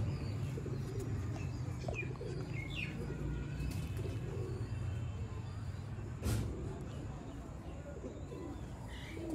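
Colonel-breed pigeons coo softly in the distance against faint background noise, with a sharp knock partway through.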